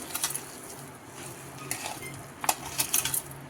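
Ground soaked chana dal batter being mixed by hand in a bowl for masala vada, giving soft wet squelches with sharper clinks against the bowl, close and irregular.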